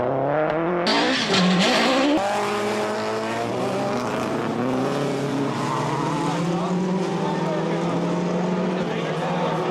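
Peugeot 106 Rallye rally car at the Tour of Flanders Rally, its engine revving hard and loud with rising and falling gear pulls, a sharp burst early on, while a voice talks over it.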